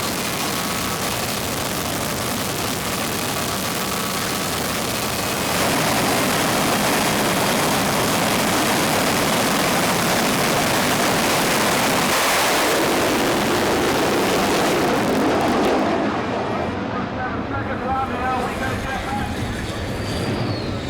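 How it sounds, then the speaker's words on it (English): A jet car at a drag race fires up with a loud, sustained roar and rushing hiss that swells and builds in intensity, nearly constant and dominating, with a voice briefly audible. "drag racing attracts some very unusual machinery, and behind us here is a jet car"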